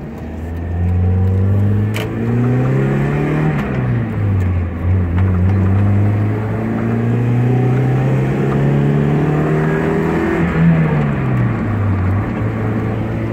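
A cheap old Mazda Miata convertible pulls hard from inside the cabin. The engine note rises through the revs, drops sharply at a shift, climbs again, then drops once more, with a loud continuous drone throughout.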